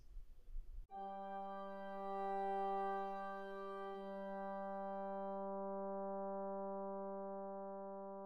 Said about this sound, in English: Here they play a quiet background role with the woodwinds.